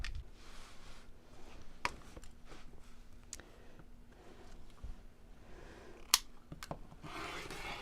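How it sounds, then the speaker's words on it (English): Scissors cut through three stacked layers of fabric in a quiet room, making soft, close snips spaced out at irregular intervals, with one sharper click near the end. "So I'm going to cut through all 3 layers together here."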